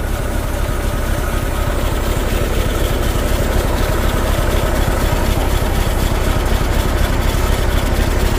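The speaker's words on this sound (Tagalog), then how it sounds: "Ibig sabihin may leak po yung tambutso nito. Ayun po, kaya maingay." A loud Hino Profia F17E boom truck engine idles steadily close by through a leaking exhaust, with a rough, rapid pulsing rumble and raspy, noisy texture throughout.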